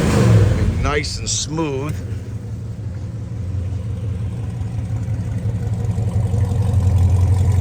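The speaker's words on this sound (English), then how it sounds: "Let me give it a little gas." A 1972 Chevrolet Chevelle V8 with a mild cam rumbles at idle, then gets two quick rising revs before settling back into a steady, loud lumpy idle, with someone talking briefly over it.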